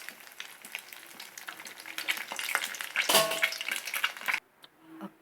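Chicken loaf lollipops frying in hot oil, a close, continuous crackling sizzle that swells in the middle and cuts off abruptly near the end.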